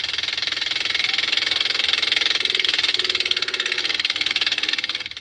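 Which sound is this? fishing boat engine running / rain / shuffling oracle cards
fishing boat engine running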